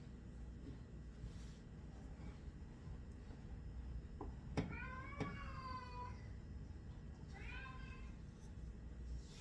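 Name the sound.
cat meowing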